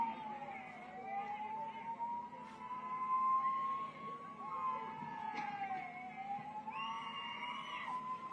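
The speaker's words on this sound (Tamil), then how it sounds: "ஆம்புலன்ஸ் வருது வழி எடுக்கப்பா" An ambulance siren wails with a rising and falling tone through a political rally speech in Tamil Nadu, steady and fairly loud over crowd noise, with a voice speaking beneath it.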